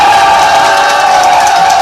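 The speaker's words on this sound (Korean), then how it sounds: "응원의 목소리로 함성과 함께 박수" A crowd at a political party rally for a district mayoral by-election candidate roars in sustained, loud cheering and shouting, a continuous wall of voices with no pauses.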